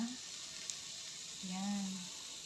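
A ladle of banana pancake batter hits a hot frying pan, setting off a soft, steady sizzle with a faint hiss under a quiet kitchen background.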